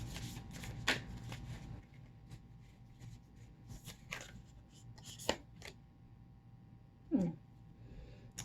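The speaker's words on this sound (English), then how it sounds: "let me pull one last card to close out your reading" Tarot cards are shuffled and drawn, giving soft, quiet riffling and sliding sounds with a few crisper snaps and taps scattered through an otherwise hushed room.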